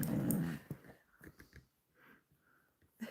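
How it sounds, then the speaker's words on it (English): A dog at an off-grid cabin gives a short low growl, then a few faint, soft whimpers and sniffs in a quiet setting. "Here's one dog."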